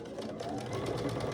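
A sewing machine runs steadily, stitching a quarter-inch seam along a quilt block strip, a fast close mechanical whir with rapid rhythmic needle ticks.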